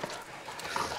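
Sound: hunting dogs panting and whimpering

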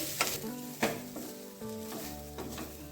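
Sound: grated coconut frying in a pan

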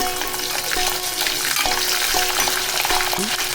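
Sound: garlic frying in pan for amla pickle

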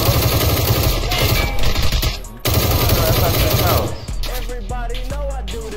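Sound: sniper gunfire in PUBG video game

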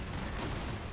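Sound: explosion in the video game Broforce

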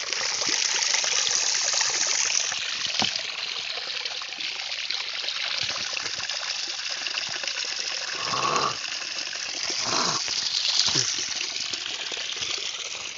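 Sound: water gushing from borewell pipe

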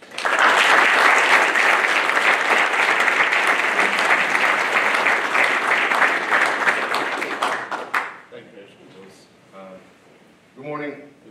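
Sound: audience applause at graduation ceremony

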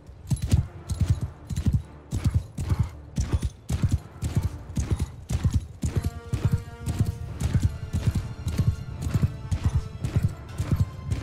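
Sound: horses galloping in Mount & Blade 2: Bannerlord video game

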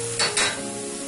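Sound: tahini sauce sizzling as it deglazes the pot

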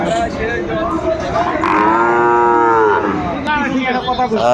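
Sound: cows mooing

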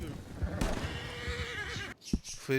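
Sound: horse neighing in a video game (Red Dead)

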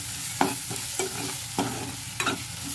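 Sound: stirring roasted kasuri methi into frying masala for paneer curry

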